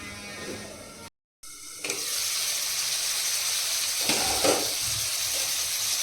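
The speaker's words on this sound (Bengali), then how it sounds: "ডালের যে লাউটা কষাচ্ছি" Bottle gourd being sautéed in a pan for dal makes a steady, soft sizzling hiss. The sound begins after a brief cut and swells slightly when the pieces are stirred.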